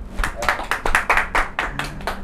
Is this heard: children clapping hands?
yes